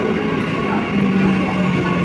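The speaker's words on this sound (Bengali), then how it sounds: "তো এটা হচ্ছে কল্যাণী সীমান্ত ট্রেন" Kalyani Simanta local train giving a steady, even rumble with a faint tonal hum, continuous and fairly close for two seconds, with no voices.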